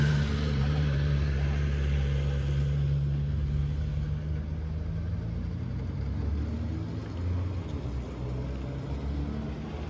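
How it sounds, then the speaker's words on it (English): A motorbike comes along a road in the Sierra Foothills, a steady low engine rumble that holds fairly constant and fills the whole stretch. "I hear another bike coming"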